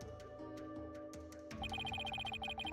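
Phone ringing with an incoming call in the video game Ace Attorney 6, a rapid electronic trilling ring that starts partway in over quiet game background tones.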